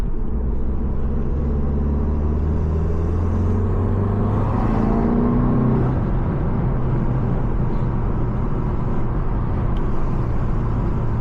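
A car's engine rumbles low and steady from inside during a drive, with a brief rise in pitch partway through, then settles into a constant road-and-motor roar.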